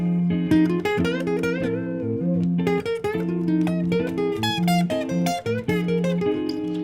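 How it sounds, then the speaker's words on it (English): An electric guitar plays a wandering pentatonic lead line over sustained backing notes, steady and fairly loud, with no voices. "if you could panic and play an awkward pentatonic solo, and it's gonna sound like this"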